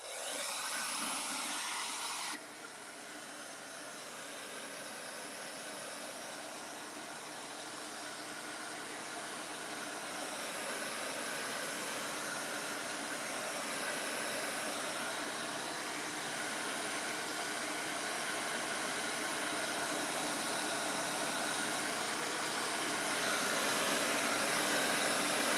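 A heat tool runs steadily to dry a floral craft sign, giving a continuous airy whir that holds for the whole stretch with a small dip near the start and gradually swells slightly louder.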